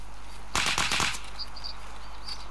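Gunfire in the shooter game Escape from Tarkov, a quick burst of about five sharp shots fired in rapid succession, clear and fairly close, followed by quiet game ambience.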